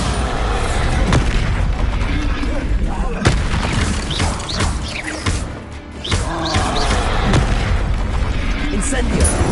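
Repeated booming spell explosions in Hogwarts Legacy on PS5, several heavy blasts spread across the stretch, loud and close with crackling debris, amid shouted spell incantations.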